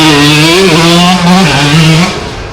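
A vintage dirt bike sidecar engine at a vintage dirt bike weekend in Conondale, Australia, droning loud and close with its pitch rising and falling through the revs before easing off.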